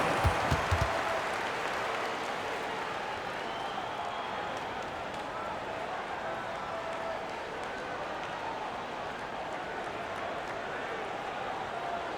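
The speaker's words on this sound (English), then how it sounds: "Please give a big round of applause for your new Dance Squad." Video game crowd applause and cheering at an NBA 2K25 basketball game fill the space in a dense, steady wash, with a few sharp claps at the start, sustained throughout.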